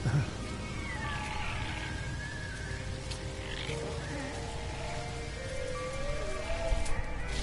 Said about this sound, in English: Planet with toxic rain.